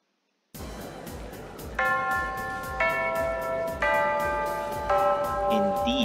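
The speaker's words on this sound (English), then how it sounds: "Indeed, the bell has rung." Bell tones ring out four times at roughly one-second intervals in the Fureraba visual novel game, each strike a bright, sustained chime layered over a steady background bed.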